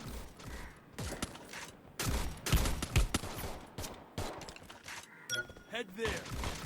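Rapid gunfire bursts from a shooting video game during a fight against enemies, loud, dense clusters of shots with impacts and clatter, mixed with game noise and talk over it.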